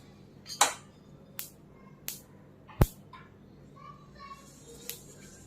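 Sesame seeds dry-roasting in a hot pan give off a handful of sharp, isolated crackles and pops, spaced irregularly over a quiet background.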